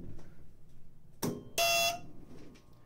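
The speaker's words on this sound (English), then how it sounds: "So I'm going to silence the trouble warning" The trouble warning buzzer of a vintage Edwards Custom 6500 fire alarm panel sounds twice over a quiet hum, the second tone a steady, harsher half-second beep.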